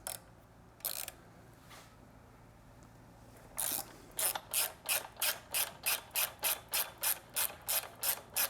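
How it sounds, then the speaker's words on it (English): A ratcheting 12mm wrench works a foot peg mount bolt on a Triumph motorcycle, a few isolated clicks at first, then a rapid, even run of close metallic ratchet clicks. "we want to remove the foot peg mount and bushing using a 12mm wrench"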